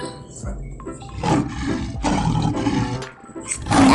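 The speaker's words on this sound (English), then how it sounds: "That's a lion." A lion roars in rough, breathy bursts, one after another, loud and close, with no voices.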